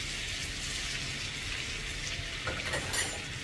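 About a teaspoon of cumin seeds sizzling in hot oil for street-style pav bhaji, a steady, close frying hiss with soft crackles that pop more sharply near the end.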